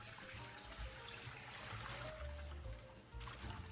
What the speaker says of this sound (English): Then add water and stir well.